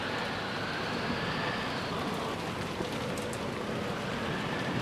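Steady rain falls and patters onto puddles, a continuous wash of drops that holds even and unbroken throughout, with no voices.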